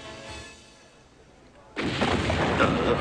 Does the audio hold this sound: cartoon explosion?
yes